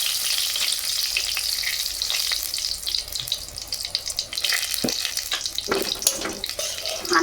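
Dried red chillies frying in oil for tempering a Bengali chochori, a steady crackling sizzle close by with scattered clicks and spatters, no talk.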